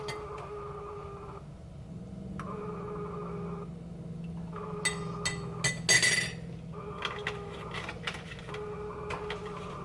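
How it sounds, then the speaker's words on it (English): A home coffee machine runs steadily with a low hum and mid-range whir throughout, joined by light clinks and taps of cups and utensils nearby, with a brief louder clatter partway through. "Sorry if the coffee machine's a little bit loud still."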